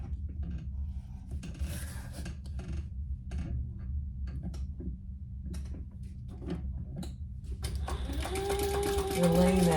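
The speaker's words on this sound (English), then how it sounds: "And then we're gonna sew the seam allowance in the pattern." A sewing machine stitches a seam allowance on a fabric sling bag, a steady quick mechanical ticking and whirring running throughout, close by, while a voice talks over it.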